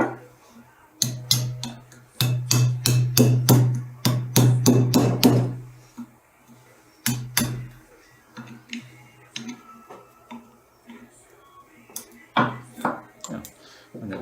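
Metal tools tap and knock against wooden wedges being pried out of an axe handle, with clusters of sharp close knocks and scraping, then sparser clicks.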